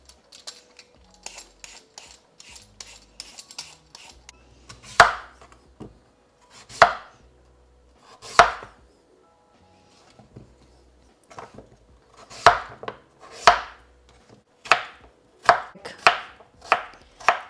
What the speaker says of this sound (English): So just gonna peel and chop it into small pieces so they take the same amount of time to cook as our cauliflower.